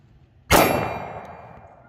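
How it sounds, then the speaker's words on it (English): A single sharp live-fire shot from an M&P Shield 9mm pistol, loud and close, with a ringing tail that fades over about a second. "Here's an M&P Shield 9mm, and here's what real live fire looks like."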